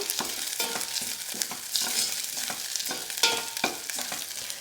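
Tomatoes go into a pan of frying onions, crackling and sizzling steadily while a spoon scrapes and stirs in repeated strokes, close and without speech.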